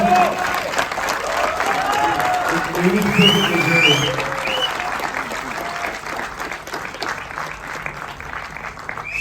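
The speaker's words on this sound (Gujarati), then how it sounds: "બહુ જ બધી તાળીઓ સાથે આ બંને ભાઈઓને આપણે વધાવીએ" Sustained, dense applause from the audience at the premiere night of the Gujarati film Jeev, with cheering mixed in and a voice speaking over the clapping throughout.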